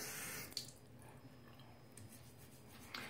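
Water running from a bathroom tap while a body scrub is being used, a steady soft rush that stays low and even for about three seconds with a couple of brief clicks.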